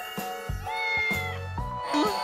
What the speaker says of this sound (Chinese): 小猫小狗， 可以摸吗？